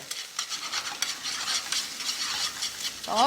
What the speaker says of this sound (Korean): 이럴 때는 좀 볶는 시간이 좀 길겠죠. 자, 요렇게 볶아내도록 하겠습니다.